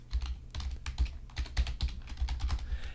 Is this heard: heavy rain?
no